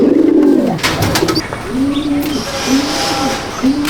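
Kalanka pigeons in a Madrasi pigeon loft in Rajarhat, Kolkata coo in a repeated, rhythmic series close by, with a brief flutter at the start.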